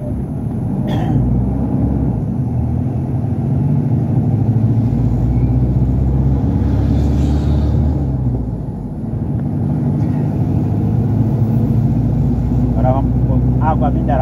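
A truck engine rumbles steadily at low revs while the truck maneuvers and backs up, a continuous close drone that dips briefly before resuming, with a voice talking over it in places.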